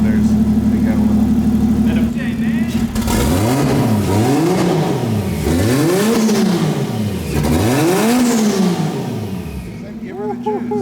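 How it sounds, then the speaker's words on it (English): A 2JZ inline-six swapped into a Ford F-150 on solid mounts revs up and down in repeated loud swells, several rising and falling sweeps close by, with voices talking over it. "Oh man, the JZ is so smooth, even with solid mounts."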